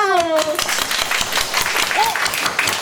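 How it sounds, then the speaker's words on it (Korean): Children clap their hands together in a worship session, a lively, continuous patter of many small hands, with voices and a brief sung or spoken tone near the start. "다 같이 박수."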